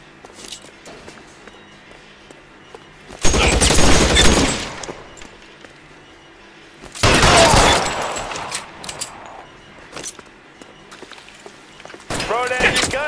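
Bursts of gunfire in a shootout in the video game L.A. Noire, three loud dense volleys separated by quieter stretches with faint movement, a voice speaking in the game.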